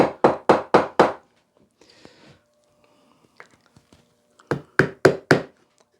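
A hammer taps nails on cast iron in two quick bursts of five sharp, ringing strikes, separated by a quiet pause with faint handling noises.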